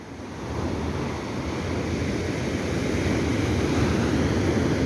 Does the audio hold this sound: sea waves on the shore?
yes